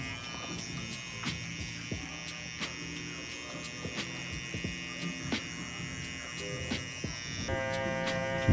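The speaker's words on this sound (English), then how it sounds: "And follow that along with my electric shaver." An electric shaver buzzes steadily up close while cutting hair during a burst fade haircut, with a constant hum and small clicks of contact throughout.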